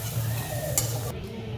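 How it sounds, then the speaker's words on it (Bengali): Potatoes frying in a pan for a lote fish recipe, a moderate, steady sizzle with a single sharp clink partway through, heard close with no talking. "এবার আমরা আলুগুলোকে একটু ভালো করে ভেজে নেবো।"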